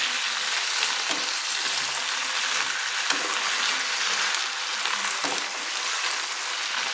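Malabar spinach (pui shak) being stirred as it fries in a pan, a steady loud sizzle throughout with soft scraping stirs at intervals.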